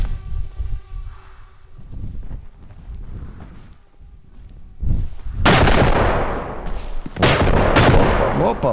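Gunfire in the Bodycam video game: loud, dense bursts of shots break out in the second half, following quieter stretches of game sound and movement noise.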